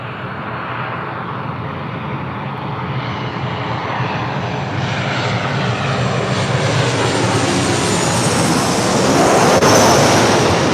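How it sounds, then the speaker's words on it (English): Southwest Airlines Boeing 737-700 from Las Vegas landing at LAX, its jet engine roar loud and close, rising steadily in strength as the aircraft approaches. "This is Southwest Airlines 696 coming in from Las Vegas on a 737-700."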